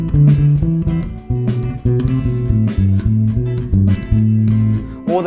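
Solo bass guitar line played with unsettled, uneven timing, a steady run of low plucked notes close and loud, with no talking.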